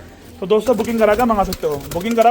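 Madrasi pigeons coo softly on a rooftop loft while someone talks loudly over them, their low cooing mostly buried beneath his steady speech.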